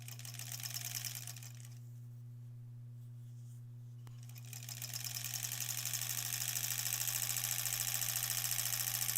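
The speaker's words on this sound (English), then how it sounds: "let's sew these together, and then we can trim off the excess" Sewing machine stitching quilt scrap strips together for an improv-pieced granny squares quilt, a rapid close mechanical whir over a steady hum, pausing briefly midway before resuming.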